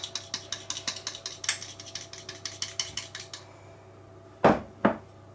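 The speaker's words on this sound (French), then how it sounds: "Allez, on va mélanger le chocolat." Spoon clinking rhythmically against a bowl while melted chocolate is stirred, a quick run of light metallic taps followed by a pause and two louder knocks.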